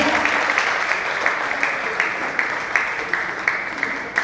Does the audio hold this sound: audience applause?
yes